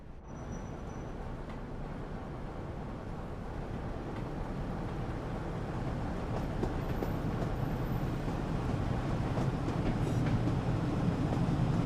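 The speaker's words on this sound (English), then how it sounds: "Comes a diesel of some kind" Diesel intercity train, a ScotRail Class 158 in a train simulator, rumbling and burbling steadily with rail clatter, growing slightly louder as it rolls through, with no talk.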